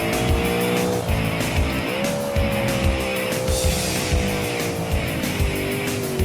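Custom hatchback in BeamNG.drive, mid-engine layout, driven hard: a loud, continuous engine drone shifting pitch with throttle, overlaid by sustained tire squeal and skidding noise throughout, no talk.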